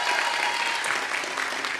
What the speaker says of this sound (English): So they're really great, so let's give them an applause.